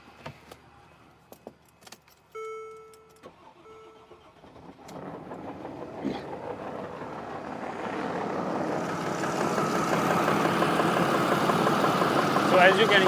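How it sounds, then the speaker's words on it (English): After a few key jingles and a short start attempt, a Mercedes GL350 with a crank-no-start fault fires up and keeps running, its engine steady and mid-toned, growing gradually louder over the idle. "So as you can hear, the car is running for a lot longer than it was before."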